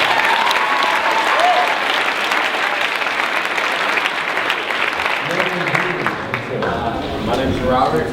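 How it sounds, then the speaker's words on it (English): An audience at a school assembly breaks into a steady round of applause, dense clapping filling the room for several seconds before thinning out as a voice begins speaking near the end. "Maybe round of applause."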